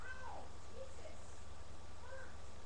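A house cat meows several times indoors, fairly faint, the cries rising and falling over a low steady hum with no one talking.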